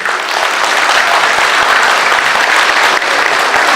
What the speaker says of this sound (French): Merci pour vos applaudissements.